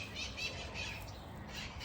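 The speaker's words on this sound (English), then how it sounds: "those are parrots that you'll hear in the background" Faint, distant parrot squawks repeat every fraction of a second over a low background hum in a garden.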